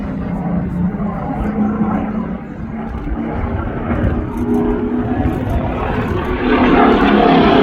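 A Supermarine Spitfire flies a display at an air festival, its propeller engine droning loudly and continuously, swelling as it passes closer toward the end.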